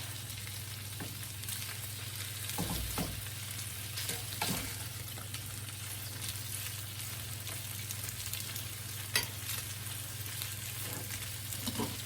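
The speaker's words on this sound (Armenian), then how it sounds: "Թողնեմ մի փոքր տապակվի, որ էլ ավելի համով լինի։" Food frying in a pan while being stirred, a faint continuous sizzle over a low steady hum, with scattered soft clicks and scrapes of a utensil throughout.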